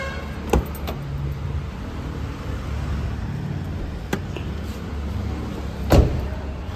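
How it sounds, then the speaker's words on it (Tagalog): A used car's trunk is opened, giving a few distinct clicks and thumps from the latch and lid over a steady low background hum. "Buksan lang natin yung kanyang trunk."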